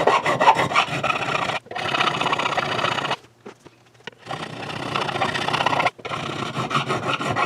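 Metal file rasping across the frets of a Partscaster guitar, close and loud in long continuous strokes, with two brief pauses between passes.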